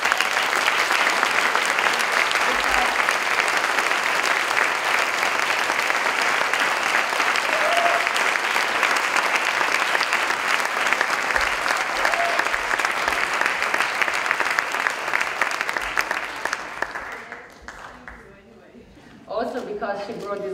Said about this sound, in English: please give a big applause to Andrea